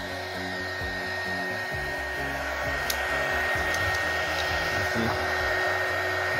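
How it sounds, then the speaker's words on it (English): Electric heat gun drawing about 24 amps from a bank of parallel-connected batteries, blowing with a steady, loud whooshing fan-and-air roar and a constant hum throughout, with no talking. "I connected the heat gun to it. This heat gun. So I will be turning it on."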